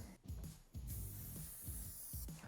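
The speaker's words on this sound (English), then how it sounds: "just spray this on the inside of the tire where the tube will sit" Several short hissing bursts of aerosol spray, close up, separated by brief pauses, sprayed inside a Yamaha TW200 front tire where the tube sits.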